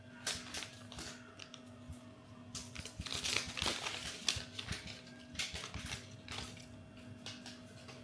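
Packaging around a multitasking makeup pencil is opened by hand, with soft crinkling, tearing and tapping noises in irregular bursts, quiet and close, with no talking.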